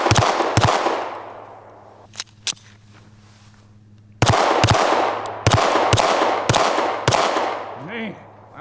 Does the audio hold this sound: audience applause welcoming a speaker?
no